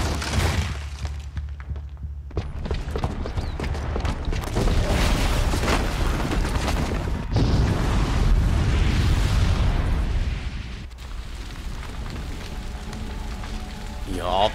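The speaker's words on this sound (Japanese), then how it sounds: "一階の仕掛けがこれで爆発するだろうからな。" A large explosion in the video game Horizon Zero Dawn sends out a loud, sustained roar of rumbling, crackling blast noise for several seconds, then fades into lingering debris and ambience.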